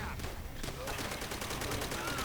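Gunfire in the video game Call of Duty: World at War: rapid, fairly quiet repeated shots forming a continuous fusillade of even pulses in a busy battle mix, with a voice speaking over it.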